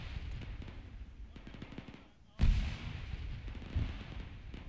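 Incoming mortar fire in a military shooter game, with scattered gunshots crackling before a sudden loud, close blast and a second, smaller detonation shortly after, amid the din of battle.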